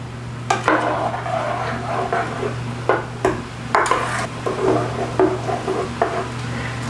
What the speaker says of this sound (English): you are going to stir in the pectin with that 1/4 cup of sugar